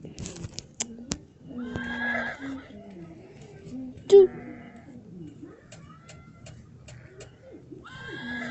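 Horse whinnies in the video game Medieval Craft 2, a few short neighs scattered among in-game sounds while someone talks over them.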